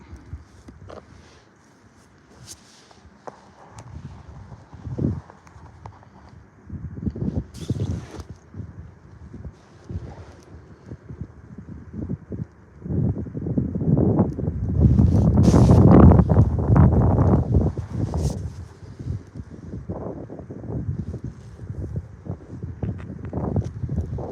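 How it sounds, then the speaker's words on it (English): Wind buffets the microphone in rumbling gusts in the San Juan Mountains in winter, building and easing, strongest in the middle, with no speech. "I hope the audio turns out because it's windy. Wind kind of just picked up."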